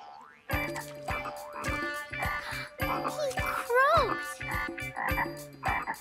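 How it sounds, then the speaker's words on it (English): Cartoon space frogs croak in a bouncy repeated rhythm of springy, boing-like calls, several in a row with a warbling sweep in the middle. "Listen! More space frogs!"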